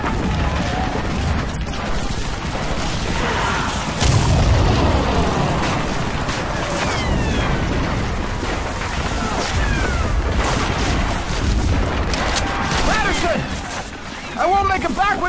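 Gunfire and explosions from a Call of Duty D-Day beach mission in World War II: dense, continuous combat noise with heavy booms and rattling bursts, while voices shout over the din throughout.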